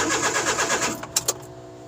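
A Suzuki DA63T with a K6A engine that will not start is cranked, its starter churning in a rapid, loud, even rhythm for about a second before cutting off, followed by a couple of sharp clicks.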